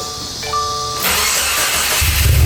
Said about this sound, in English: So now we're probably ready to start the car.